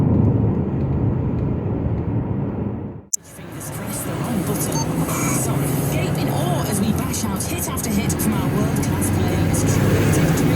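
Steady engine and road drone from a vehicle being driven on country lanes, broad and continuous, cutting abruptly to a louder, brighter interior rumble partway through, with someone talking over it.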